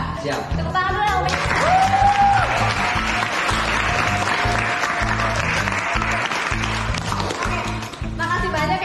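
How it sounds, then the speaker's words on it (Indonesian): Steady applause fills the room throughout, dense clapping from an audience at a campus program presentation, with voices audible under it and a brief tone near the start. "Tepuk tangan dulu ya"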